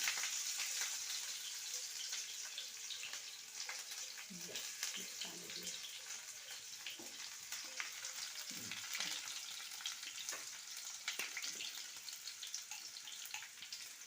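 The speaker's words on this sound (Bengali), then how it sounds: "পেঁয়াজ কুচিটা দিয়ে দিচ্ছি" Chopped onion fries in oil with a soft, continuous sizzle, and intermittent spoon knocks and stirring sounds run over it.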